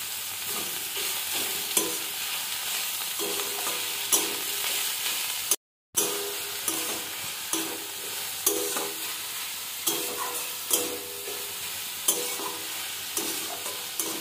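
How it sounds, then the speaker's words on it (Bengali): Oats khichuri ingredients frying and being stirred in a pan, a steady close sizzle with scraping spoon strokes recurring every second or two, broken by one brief silent gap. "এবারে এটাকে আরও ভালো করে ভেজে নিতে হবে।"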